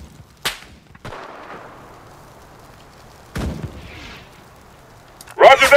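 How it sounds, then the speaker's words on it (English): Artillery strikes land in the video game Enlisted as a few sharp, separated blasts with rumbling tails, near and loud against quiet gaps, ending in a heavier cluster of impacts. "Calling in artillery!"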